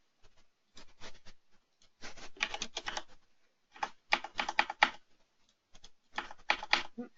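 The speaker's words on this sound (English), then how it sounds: "And now I can start typing." Steady bursts of fast, close clicking keystrokes on a computer keyboard, coming in several separate runs with short pauses between them and no talking.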